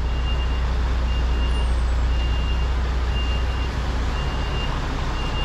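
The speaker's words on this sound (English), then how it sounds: "It's gotta be reversing where that lady is now." A vehicle's reversing beeps repeat at a steady pace over the constant rumble of road traffic, with an idling engine close by on a street.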